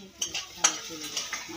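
Onion roasts in a pan for a soya paneer dish, with a spoon stirring in several soft scrapes and light metallic clicks over a faint sizzle, close and quiet.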